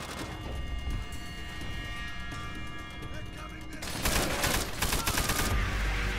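Gunfire from Call of Duty: World at War in a co-op mission, a steady rattle of shots that swells into denser, louder bursts near the end.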